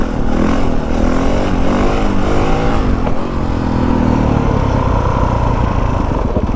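A newly bought dirt bike's engine revs hard and loud throughout, close up, the pitch rising and falling with throttle blips over a steady rumble.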